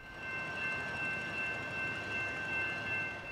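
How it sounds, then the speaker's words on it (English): Freight train carrying a Schnabel car with a nuclear container creeps through a city at walking speed, giving a steady low rail rumble with faint wheel squeal tones, moderately loud and continuous, no voices. "The train was seen coming into the city of Orange on Metrolink's Orange Sub."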